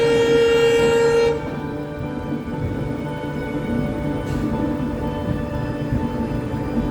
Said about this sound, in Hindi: यहाँ पर सामने शायद कोई ट्रेन KR साइड से आ रही है।